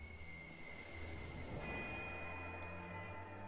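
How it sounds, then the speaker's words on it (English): Bells ringing in Pillars of Eternity 2: Deadfire, a sustained metallic tone that swells midway into a denser, clanging peal with lingering resonance under a low rumble. "The ring of a bell comes to you on a cold wind."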